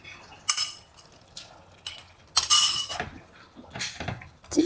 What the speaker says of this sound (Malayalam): ഇനി അതിലേക്ക് കഴുകി വെച്ച ചെമ്മീനിടാം.